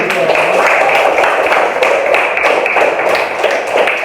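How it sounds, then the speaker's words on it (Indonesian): Schoolchildren in a primary classroom clap for a group after its presentation, a loud burst of many hands with distinct sharp taps and uneven rhythm, heard close, with some voices mixed in. "Tepuk tangan."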